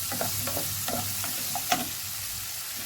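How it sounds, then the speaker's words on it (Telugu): Chopped onions frying in a pan while they are being made into a chukkakura (sorrel leaf) chutney, with a steady soft sizzle and a series of light stirring scrapes, a sharper scrape near the end, and no talking. "ఉల్లిపాయ మంచిగా వేగుతుంది"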